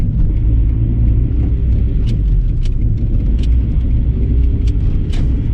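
A Honda Integra with power steering and A/C deleted, heard from inside as it rolls through a roundabout: a loud steady low engine and road rumble with a few faint ticking clicks, no speech.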